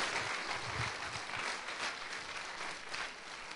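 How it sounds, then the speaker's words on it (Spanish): A church congregation claps in praise during a Spanish-language sermon on the resurrection, a thick, even wash of applause sustained throughout without speech. "No sé cuántos le pueden dar un aplauso de alabanza a nuestro Rey"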